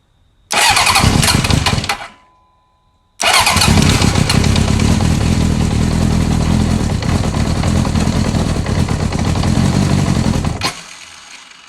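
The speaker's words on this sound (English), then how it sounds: "Clutch in, we're gonna give it some choke, gas on, order of operations, set to run." 1981 Honda CB750K motorcycle engine cranking and catching briefly, dying away, then starting again and running loud and steady up close on choke for several seconds before cutting off.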